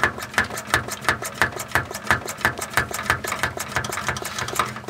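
An MSR stove fuel bottle is pumped by hand to build pressure, giving a steady rhythmic series of about a dozen squeaky strokes, close and clear.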